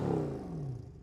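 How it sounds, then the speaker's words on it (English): An older Mercedes-AMG C63 coupe engine gives a single deep, throaty rev that sweeps downward and fades over about a second, heard from a moderate distance. "Let's have a listen to the old C63."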